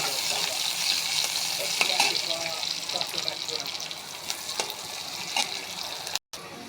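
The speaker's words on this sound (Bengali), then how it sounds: "এর মধ্যে পেঁয়াজ দিয়ে একটা শুকনো মরিচ দিয়ে পেঁয়াজটাকে লাল লাল করে ভেজে নেব" Onions with a single dried chili frying in oil for an egg and potato curry, a steady crackling sizzle with faint utensil knocks and a brief dropout near the end.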